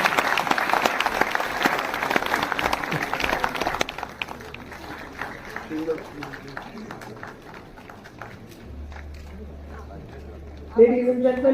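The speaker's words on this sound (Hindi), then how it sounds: "एक बार आप ही लोग ताली बजा लीजिए" Dense applause from an audience at a Sant Kabir award ceremony fills the first few seconds, then gives way to quieter murmuring, shuffling and a brief voice near the end.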